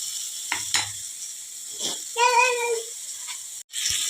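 Oil sizzles steadily in a pan while ubbu rotti is cooked, a constant bright hiss broken by a few soft clinks and a short voice-like tone.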